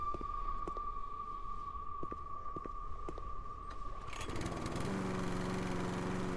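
A lawn mower running in House Flipper, a steady motor drone that swells into a louder, rougher buzz partway through, close and continuous with a thin whine underneath and no talking.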